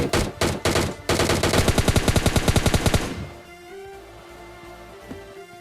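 Sustained DP machine gun fire in PUBG Mobile Lite: a few separate loud shots, then a rapid unbroken burst lasting about two seconds that stops abruptly. Faint game ambience with a small click follows.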